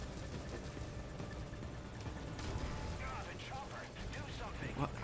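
Helicopter in Metal Gear Solid V: Ground Zeroes, a faint continuous rotor drone under game noise with scattered gunfire-like bursts and a voice talking over it.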